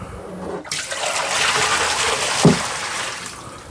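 Dirty water from a Bissell Big Green carpet cleaner tank pours out in a steady, close rush, beginning abruptly after a brief quiet moment and running continuously with a small splash near the end.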